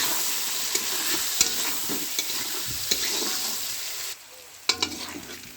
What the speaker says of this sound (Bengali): এবার এটাকে আমি ভালো করে লবণ হলুদ চিনি দিয়ে ভালো করে ভেজে নেব।